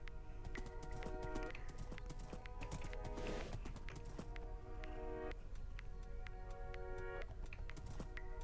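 Horse hooves clip-clopping at a steady walking rhythm in the Minecraft video game, crisp repeated clops over a sustained game music bed, with no talk.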